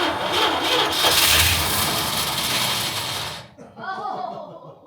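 A 1968 Dodge D200 engine fires briefly on starter fluid, a rough, loud mechanical churning for about three seconds that then cuts out abruptly, followed by a voice speaking.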